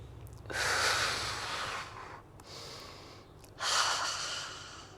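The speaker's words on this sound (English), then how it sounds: "Breathe in." Deep breaths in and out during a gentle yoga flow, close and audible, a long inhale, a softer exhale, then another strong inhale.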